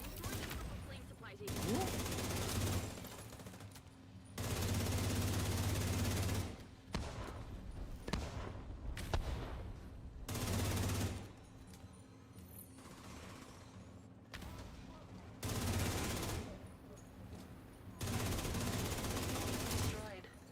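Gunfire from The Division comes in repeated bursts of automatic weapon fire, several loud volleys separated by quieter gaps, with occasional talk heard in between.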